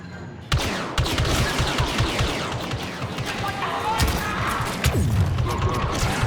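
Rapid gunfire from the video game Star Wars Battlefront II, with repeated sharp shots and blaster bursts mixed with mechanical clicks of reloading, continuous and fairly loud throughout.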